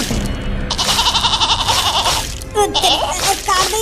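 Goats bleat outdoors as a drone draws near, several wavering cries rising above a constant high whine and rural background noise, with people talking and laughing nearby.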